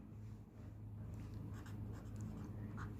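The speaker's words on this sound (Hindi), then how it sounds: "तो देखिए मैं यूं लिखता हूं" Quiet scratching strokes of writing on a board during a physics lesson on motion graphs, several short marks in a row over a steady low room hum, with no talking.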